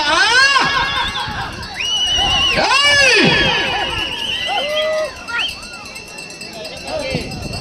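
A crowd at a bull race in Avulampalli shouts and whistles loudly, with rising cries and whoops surging around the middle and continuing throughout.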